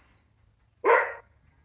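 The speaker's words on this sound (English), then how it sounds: "listen to the dogs bark" Farm dogs on a hot summer day, a single close, sharp bark standing out against quiet background hum.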